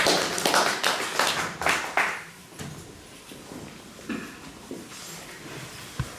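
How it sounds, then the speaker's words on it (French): A church congregation claps together at a Christian community service, loud rhythmic bursts for about two seconds that thin out into scattered claps and taps, with no speech over it. "Applaudissons le Seigneur."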